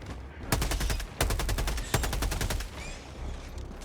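Liberator assault rifle firing in the video game Helldivers 2, several rapid bursts of automatic gunfire with sharp, evenly spaced shots, loud and close, separated by brief pauses and trailing off at the end.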